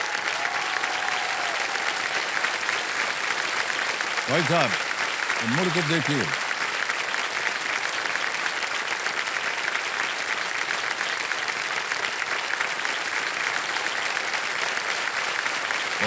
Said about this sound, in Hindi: अरे तालियां बजाते रहिए इनके लिए